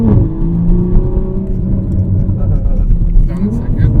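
Loud, close engine roar of a track-built Toyota Supra pulling on a street, rising and falling revs with rumbling low tones and whir, speech heard faintly at points.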